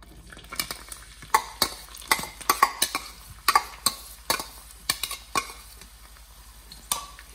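Onions sweat in a pan and are stirred, with a spoon repeatedly scraping and clacking against the metal over a soft, constant sizzle, close up and with no speech.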